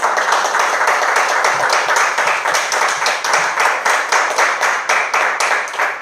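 A church congregation claps for the Lord, loud sustained applause with rapid overlapping hand claps filling the room for several seconds, no voices standing out.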